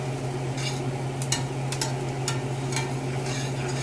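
Jalapenos cook in a pan over medium-high heat, giving a steady, soft sizzle with a low hum beneath and a few light scraping or stirring clinks scattered throughout.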